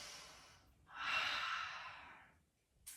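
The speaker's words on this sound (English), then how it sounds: "Big full breath." A deep, full breath during a gentle beginner's yoga flow, one soft close inhale swelling and trailing off, then a faint short breath at the end.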